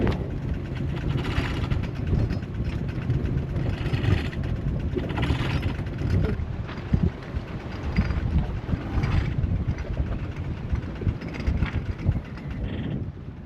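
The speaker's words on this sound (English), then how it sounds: "motoring up against the wind so that Dan can get the anchor up" A sailboat motoring into the wind, with a steady engine drone and rushing wind buffeting the microphone throughout, continuous and fairly loud with no voices.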